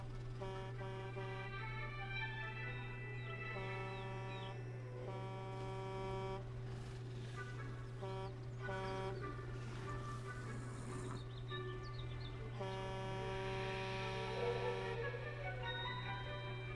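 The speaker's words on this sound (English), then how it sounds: "No, don't honk." Vehicle horn in Jurassic World Evolution 2, a sustained droning honk held steadily through the whole stretch beneath layered game music and ambience, with no talk over it.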